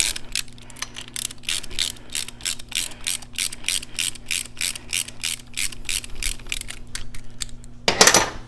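A ratchet wrench loosens 7/16 nuts on a Harley-Davidson Sportster primary cover. It gives a steady run of crisp, evenly spaced clicks close up, then ends on a brief metallic clatter.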